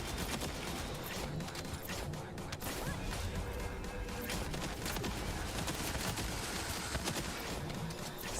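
Video game combat with dense, continuous gunfire and explosions, a loud chaotic barrage of rapid shots and crashing impacts that never lets up.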